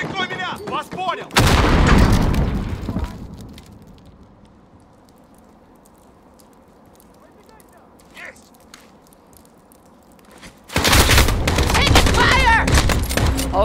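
Call of Duty Warzone grenade explosion and gunfire: a loud blast erupts, then a long burst of rapid gunfire, a quieter stretch with faint distant shots, and another heavy roar of fire and explosions, with voices calling out amid the combat.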